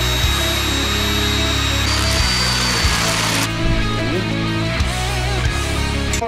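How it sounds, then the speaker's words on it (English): A power drill runs on and off as it bores into the plastic of a 2023 Can-Am Renegade and Outlander ATV while front halo lights are installed. The motor whines steadily and close, shifting in pitch as it loads up and eases off. "we still have to drill and bolt the two front ones into the plastic"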